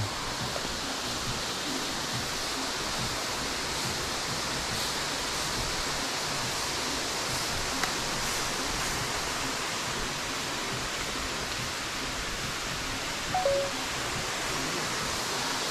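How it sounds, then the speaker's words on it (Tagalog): Tamaraw Falls roars as a steady, dense rush of falling water, close and loud, an unbroken wash of noise with no voices. "Tamaraw Falls."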